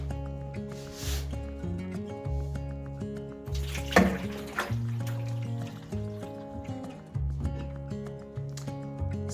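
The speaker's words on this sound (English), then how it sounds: "So I'm going to pour the whole bowl right into the drum there." A bowl of dye water is poured into a washing machine drum, a soft splashing gush and trickle heard beneath louder melodic background music.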